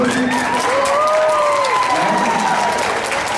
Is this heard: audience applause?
yes